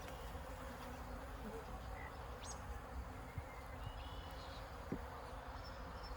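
Honey bees swarm over a hive frame covered with brood, giving off a steady, soft buzzing hum with occasional louder individual bees passing close.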